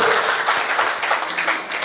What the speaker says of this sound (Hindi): एक बार भरपूर तालियां दे दीजिए, उसे लगना चाहिए।